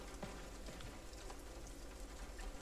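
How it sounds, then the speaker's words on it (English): Rain falling on one side of a house in the horror video game Home Sweet Home, a dense, steady patter that stays loud and even throughout. "the rain, for some reason, rains only on this side of the house"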